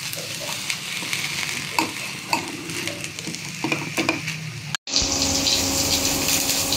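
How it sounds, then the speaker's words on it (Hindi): Mashed pea filling for kachori fries and is stirred in a pan, with a steady close sizzle and scraping stirs that grow louder and denser after a short break. "इसको अच्छा से फ्राई कर लेना है।"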